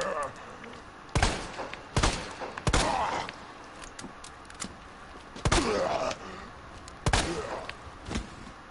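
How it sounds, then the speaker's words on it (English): Gunshots in Resident Evil 2, a survival horror video game: a series of sharp, loud shots at irregular intervals, about eight in total, over a steady murky in-game background. "That's a lot of shots he took."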